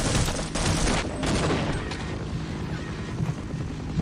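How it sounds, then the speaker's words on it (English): Sustained enemy gunfire in a video game, with dense overlapping shots forming a continuous fusillade that stays loud throughout, along with rumbling battle noise and no clear talk. "Why were these guys already shooting?"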